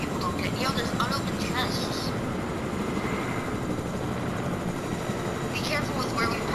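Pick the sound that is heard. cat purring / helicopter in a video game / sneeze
helicopter in a video game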